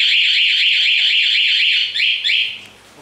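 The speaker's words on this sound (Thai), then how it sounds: "ใครโดนรถเรานะครับมันจะมีเสียง" Anti-theft alarm on a Yamaha Spark 135i motorcycle wails loudly and close, a rapidly warbling electronic tone repeating steadily before cutting out near the end, with no voices.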